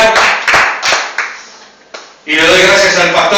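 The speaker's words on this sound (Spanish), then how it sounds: "¿Cuánto le dan un fuerte aplauso al Señor?" Congregation clapping in a church service, a few loose claps that give way to a burst of applause near the end, mixed with voices.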